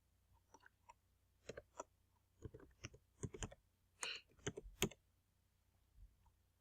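Typing on a computer keyboard: irregular bursts of light key clicks, quiet and close, several quick runs of keystrokes with short pauses and no talking.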